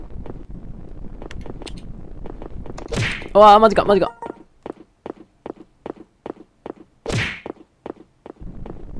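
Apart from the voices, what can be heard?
footsteps in an online hide-and-seek video game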